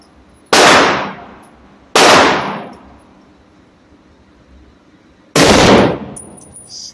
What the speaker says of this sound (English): You had a U.S. sniper here shooting a 30-06 at Scottsdale gun.